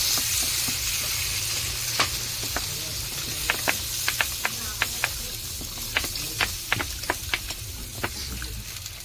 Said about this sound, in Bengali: ভালো সিদ্ধ হওয়ার জন্য জল দিয়ে দিলাম